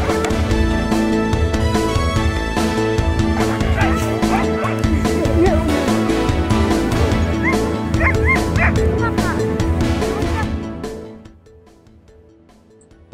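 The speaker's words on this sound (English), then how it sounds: "22 teams of dogs heading off into the wilderness." Sled dog teams setting off at a race start in Greenland, many dogs barking, yipping and whining together in a loud, dense, continuous chorus that drops away sharply near the end.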